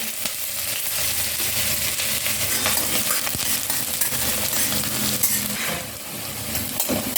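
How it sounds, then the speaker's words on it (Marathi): Onion frying in hot mustard oil in a wok, a loud, steady crackling sizzle with occasional stirring scrapes and no talking. "कांदा टाकू आपण"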